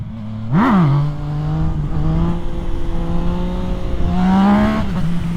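A race motorcycle is revved hard during a wheelie attempt, with a sharp rising engine blip followed by a sustained buzzing drone and a second surge of revs near the end, close and loud.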